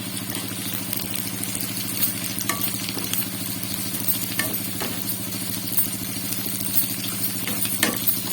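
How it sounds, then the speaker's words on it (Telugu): Semiya vermicelli deep frying in oil for upma, a steady close sizzle and crackle with a low droning hum running beneath it throughout. "సేమియా మంచిగా ఆయిల్లో మంచిగా డీప్ ఫ్రై అలాగా మంచిగా ఫ్రై అయితేనే ఈ ఉప్మా చాలా టేస్టీగా ఉంటుంది"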